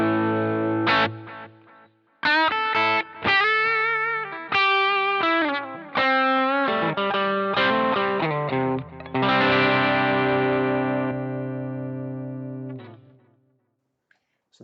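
Electric guitar through a Boss GT-1 with the preamp solo switch engaged, giving a louder, overdriven lead tone; a series of strummed chords and picked phrases with distinct attacks, ending in a long sustained ring, no speech.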